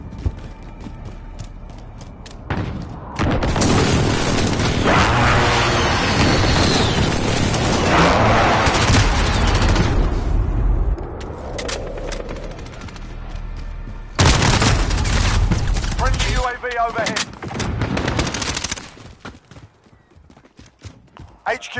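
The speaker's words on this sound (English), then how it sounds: "Enemy precision airstrike." Heavy explosions from an enemy precision airstrike in Call of Duty Modern Warfare pound in loud, dense bursts with crackling gunfire, then fade into scattered shots and debris.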